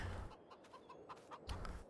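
Chickens in the farming game Farming Simulator 22 cluck in a few short, soft calls over a steady low background hum, with a louder burst near the end.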